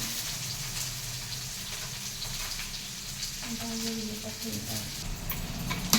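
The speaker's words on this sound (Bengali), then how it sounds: "ভেন্ডিটা ভেজে নিই।" Okra fries in a pan with a continuous close sizzle and crackle, lightly stirred, while someone talks softly over the cooking.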